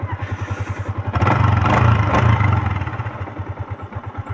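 A Yamaha Sniper 150 motorcycle engine runs steadily after a clutch damper repair. The idle pulses evenly up close, swells briefly in a rev, then settles back into a smooth, regular idle without clattering.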